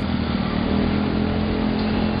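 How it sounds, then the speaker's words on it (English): Motorcycles and other traffic rumble along a Shanghai street, a steady, dense engine drone with no clear break. "There were plenty of bikes and motorcycles,"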